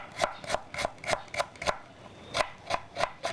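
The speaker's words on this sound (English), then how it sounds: "Slice thinly." A knife thinly slicing a vegetable for kimchi on a cutting board, close crisp cuts in a steady rhythm of about three per second, with a brief pause midway.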